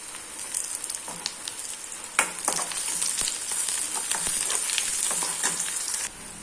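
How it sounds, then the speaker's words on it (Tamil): Garlic and ginger sauté in a pan for mint chutney, a close, crackling sizzle broken by sharp clicks and scrapes of a stirring utensil. "இப்போ இதையும் வதக்கி விட்டுக்கலாம்"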